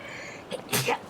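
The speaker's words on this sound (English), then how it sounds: "Gotta do sneeze." A single sneeze, close and sharp, with a short intake before the burst.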